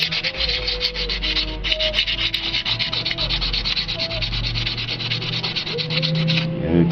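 Steady back-and-forth rasping of 220-grit sandpaper rubbed over a car's timing cover during a timing chain replacement on a G-body Cutlass, loud and continuous with a rhythmic scrubbing pulse, no talking.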